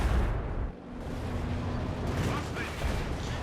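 Artillery strike explosions in Company of Heroes 2, a dense, loud wash of booming blasts and rumble sustained throughout, with a brief dip near the start and a caster talking underneath.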